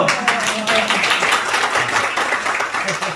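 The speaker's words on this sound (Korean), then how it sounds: "박수!" Worshippers at an early-morning church prayer service break into brief, lively clapping, dense and close, with a few voices mixed in.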